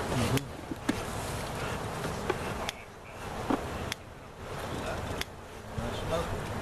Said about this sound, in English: Very few bees in here.